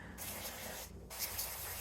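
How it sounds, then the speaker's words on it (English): Cooking oil spray hisses from an aerosol can into baking pans for protein bread made with bamboo fiber, in two near bursts with a short gap between them. "I'm gonna go ahead and spray these."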